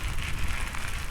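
Rain falling on an open road during a long bike ride through unfamiliar terrain on Lanzarote, Spain, a steady broadband hiss mixed with wind rumble, close and continuous for about a second, with no talking.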